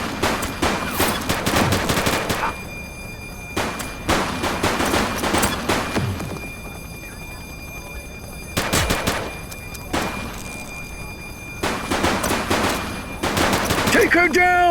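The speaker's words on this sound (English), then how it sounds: "He's shooting!" Gunfire in the police video game The Precinct, repeated loud bursts of rapid automatic shots in several volleys separated by short pauses, close and harsh.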